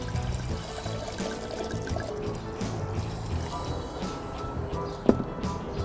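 Wine from a full bottle poured into a pot off the heat while making a barbecue fruit syrup, a steady low trickle and glug lasting several seconds, close and fairly quiet, with a brief clink near the end.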